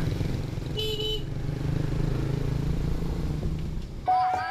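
A motorcycle rides along a rural village road in Myanmar, its engine droning steadily up close, with a couple of short horn toots and a brighter honk near the end.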